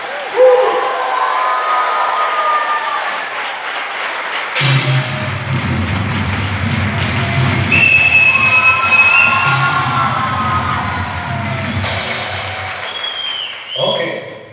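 A church congregation claps loudly and shouts in praise, a dense wash of applause and voices that surges mid-way, with music and a speaker's amplified voice mixed in.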